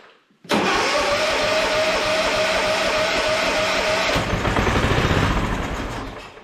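A racing lawn mower engine cranks and fires, then runs at a loud, steady, close idle before roughening and fading away toward the end.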